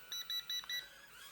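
A Potensic Firefly A20 toy drone gives four short, evenly spaced electronic beeps, close and clear against a quiet background.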